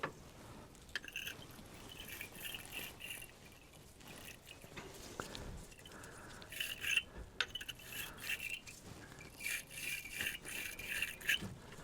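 A wire battery terminal brush scrubs the inside of car battery clamps with faint, close, uneven scratching and rattling strokes.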